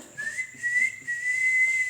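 A pressure cooker whistles steadily on the stove while rice cooks, a sustained high hiss-whistle with a few faint background clatters.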